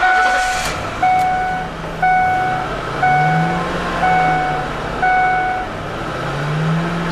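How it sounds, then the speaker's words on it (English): The 4.2L V6 engine of a 2006 Ford E150 cargo van idles steadily while a repeating electronic beep sounds about once per second, loud and close, with the motor's hum swelling slightly between beeps. "Just revving it up so you can hear the engine"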